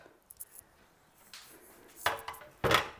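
Quiet kitchen clatter of dishes being handled, a few light clinks followed by two louder scraping knocks near the end.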